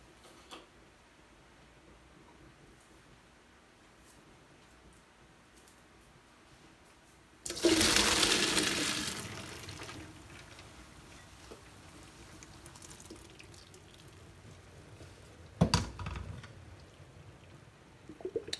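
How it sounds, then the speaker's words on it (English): Cooked pasta is drained and water pours out in one loud rushing splash lasting about two seconds. A quieter trickle follows, then a brief clatter near the end. Ticking sounds faintly in the background before the pour. No talking. "So you're gonna drain your pasta."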